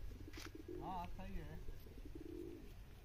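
Pigeons kept for a two-day flying competition coo in low, rolling murmurs, partly buried under nearby voices talking over them.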